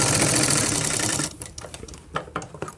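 Sewing machine stitching the side seams of a blouse, a dense rapid whirring run for over a second, then stops, followed by a few light clicks and knocks.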